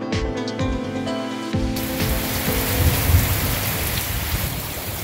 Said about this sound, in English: it's thundering like crazy now.